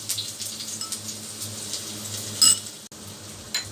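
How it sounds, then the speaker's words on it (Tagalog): Garlic sautéing in a pan gives a soft, steady sizzle over a low hum, with a brief louder crackle burst near the middle and a short gap before the sizzle resumes. "Una, igigisa muna yung bawang."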